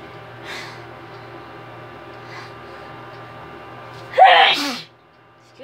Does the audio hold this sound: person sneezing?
yes